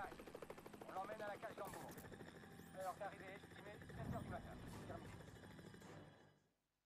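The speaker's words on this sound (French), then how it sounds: "on se retrouve tout simplement en fait dans l'hélico qu'on avait quitté tout à l'heure" Helicopter in Call of Duty 4: Modern Warfare Remastered, a continuous rotor drone filling the scene while in-game characters talk over it, with occasional metallic clanks and thuds before the sound fades out at the end.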